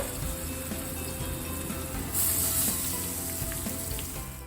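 Two whole fish frying in a pan of hot coconut oil with curry leaves over a medium-high flame, giving a steady broadband sizzle that swells briefly louder partway through and then eases slightly.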